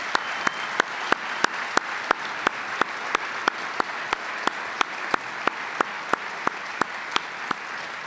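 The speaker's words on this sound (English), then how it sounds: "let us welcome them with our applause" An audience at a veterans' storytelling event in the Michigan Theater applauds a choir, a steady wash of clapping carried by a sharp, evenly spaced beat of rhythmic claps throughout.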